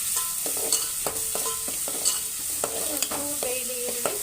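Tempering sizzles steadily in a pan after a pinch of salt goes in, a continuous close frying hiss broken by repeated clinks and scrapes of a stirring spoon against the metal.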